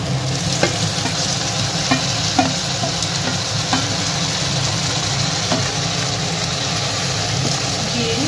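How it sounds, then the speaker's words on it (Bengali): Marinated chicken frying in a pan, a loud continuous sizzle with occasional stirring scrapes and clicks throughout. "এরপর আমি এতে ম্যারিনেট করা চিকেনটা দিয়ে দেব।"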